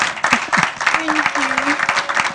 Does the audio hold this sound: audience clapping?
yes